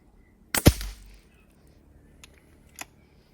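One sharp, close air rifle shot cracks out with a short thud after it, followed by a couple of faint clicks in near silence.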